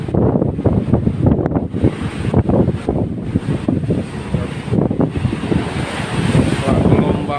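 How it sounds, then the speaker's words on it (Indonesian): Strong wind roars across a ship's deck at sea while big waves surge and crash below, loud and constant with gusty buffeting against the microphone. A voice speaks over it. "Wah, gelombang besar sekali, angin kuat di sini."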